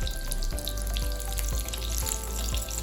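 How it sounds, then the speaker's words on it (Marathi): Leftover chapati strips fry in hot oil as oil is spooned over the tops, a loud, dense, continuous sizzle with scattered crackles and pops close by. "एक एक पट्टी आपल्याला तळून घ्यायची. वरच्या बाजूवरती असं आपण झाऱ्याने तेल सोडायचं."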